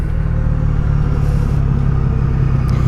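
A 1983 Honda V45 Sabre VF750S motorcycle engine idles warm, a steady low purring rumble held at an even close level with no revving.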